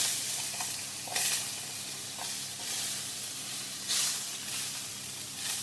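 Chopped yellow pepper fries in a pan with low-calorie spray oil, giving a steady close sizzle broken by a few louder bursts of hiss as it is stirred.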